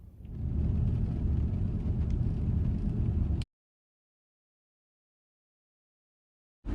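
An idling truck engine rumbles steadily and loudly up close for a few seconds, then cuts off abruptly into silence before a brief return at the very end.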